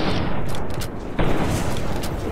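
Enemy gunfire in Fallout New Vegas, a dense rattling stream of shots with a sharper burst partway through, loud and continuous with no talk.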